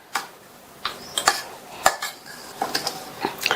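A spoon clinks against a bowl while hot puttu is mixed with sugar and grated coconut: scattered light taps and scrapes at an uneven rhythm, close and fairly quiet.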